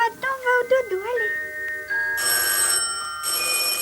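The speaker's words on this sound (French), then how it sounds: "Oh là là, ce téléphone" A telephone rings in a children's bedtime TV programme: bright, repeated electronic trilling bursts follow a few moments of animated sound, loud and close, with a brief pause between two long ringing stretches.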